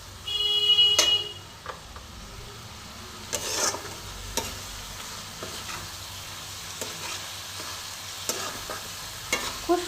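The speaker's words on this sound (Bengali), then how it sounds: "এবার আমি সমস্ত মশলা একসাথে কষবো।" Mixed masala spices fry in a pan over a gas flame for a rohu fish kofta curry, a soft steady sizzle broken by occasional scraping stirs and clinks of a spatula, close and fairly quiet.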